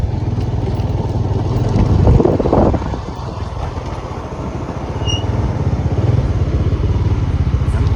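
Four or five motorcycles rumble steadily nearby as they ride at night on Pamban Island, with a brief louder clatter partway through; no talking.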